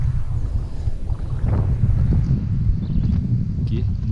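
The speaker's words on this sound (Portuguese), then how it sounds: "Muito vento." Strong wind buffets the microphone beside a lake on a black bass fishing trip in Brazil, a loud continuous low rumble with gusty surges and a few faint clatters in the background.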